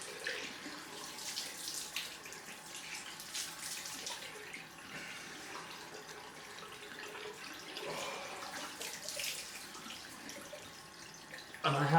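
A bathroom tap runs steadily for a cold-water rinse after a shave, its even splashing stream close and continuous, with a louder splash at the very end.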